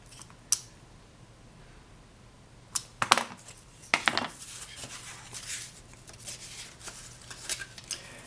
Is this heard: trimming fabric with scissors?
yes